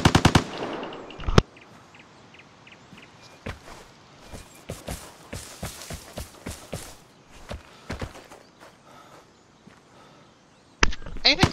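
Rapid gunfire in the online shooter Vigor, with bursts of automatic weapon fire and single shots spread over several seconds, some close and loud, others farther off, with footsteps in between.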